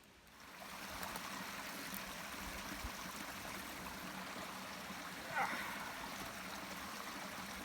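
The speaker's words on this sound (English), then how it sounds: "I am practically right next to the creek." A creek in Pennsylvania state game lands flows close by, a soft continuous trickling murmur beneath faint outdoor noise, with a brief knock partway through.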